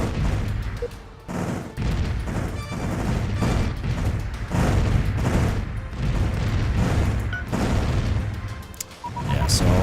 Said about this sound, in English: Let's just bombard this planet for a bit and see what happens.